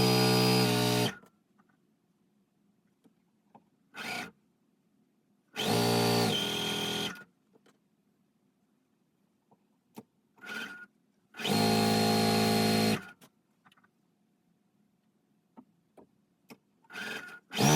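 A sewing machine chain pieces quilt units in bursts of rapid stitching, several loud runs of one to two seconds separated by quiet pauses and small clicks of handling fabric.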